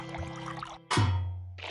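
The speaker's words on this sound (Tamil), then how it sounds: "இப்ப முதல்ல தண்ணிய போடணும்." Water poured into a bowl to make bread dough in a cartoon kitchen, a short bright splashing pour that starts abruptly midway after a busy background cue and tapers into a low trickle.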